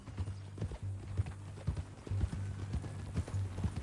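A horse's hooves clop in a steady walking rhythm in Red Dead Redemption 2, fairly quiet and regular, with soft ambient noise behind.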